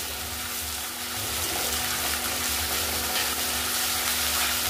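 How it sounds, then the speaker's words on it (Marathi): Crushed ginger, garlic and chilli fry in a pan for a spicy dal tempering, making a continuous, fairly quiet sizzle that swells slightly partway through, with no voices. "जे अद्रक लसूण आणि मिरची याची जी मी खलबत्त्यामध्ये ठेचून घेतलं होतं ते घालून घेऊ."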